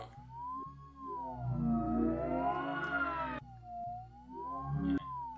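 A sine-wave oscillator centred near 900 Hz, its pitch swept smoothly up and down by a slower sine modulator, giving a continuous siren-like warble with rich buzzing harmonics; the sweep widens in the middle, then narrows again, alone and fairly loud.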